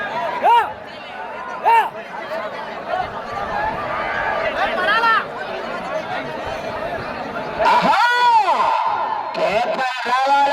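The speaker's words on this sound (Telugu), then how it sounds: "మరి జనాల్లో స్పందన విజయ్ కేకలు" Spectators at a bull race in Kamanur, Guntur district, cheer, whoop and shout in a loud, continuous crowd roar, with sharp surges of yelling near the start and again toward the end.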